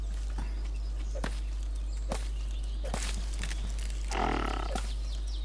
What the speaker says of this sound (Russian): А, это бабуины